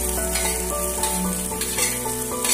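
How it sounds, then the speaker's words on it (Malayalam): Potato and onion fry in hot oil with a loud, dense, continuous sizzle heard up close. Faint clinks of a utensil come and go beneath it, and nobody speaks. "അപ്പൊ നമ്മുടെ എണ്ണയിലേക്ക് ആദ്യം ഉരുളക്കിഴങ്ങ് ഇട്ട് കൊടുക്കാം അതിനുശേഷം ഉള്ളിയും കൂടി ഇട്ട് കൊടുക്കാം"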